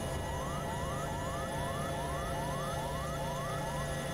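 Cockpit warning alarms in a big helicopter in the X-Plane flight simulator after an engine cut: a rising electronic chirp repeats about twice a second, continuous over a steady droning hum.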